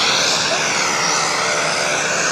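An airplane engine drones loud and steady throughout, a broad continuous roar with no voices over it.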